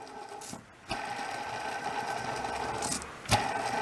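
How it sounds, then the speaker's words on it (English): A cheap bearing spins inside a geared motor in a home workshop, giving a steady, close mechanical whir with a rattly edge and a couple of brief louder bumps. "Listen to that cheesy bearing."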